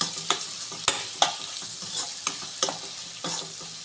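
Butter and Kashmiri chili powder stirred in a pan with a steady sizzle, irregular scraping clicks of a spoon against the pan at close range, no talking.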